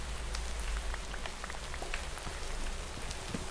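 Rain falls steadily in the video game Craftopia, a constant hiss of drops spattering on surfaces with scattered sharper patters, at a moderate, even level with no talking.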